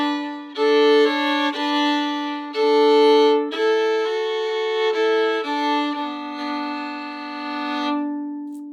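A fiddle plays a phrase of the old-time breakdown Duck River, a series of bowed notes over a drone of an open string, moving in short strokes then settling on a held tone, clear and close with no talking.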